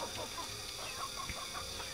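A silky chicken clucks softly and steadily among other farm fowl outdoors in Siniloan, Laguna, with a busy, low-level barnyard bed of sound throughout.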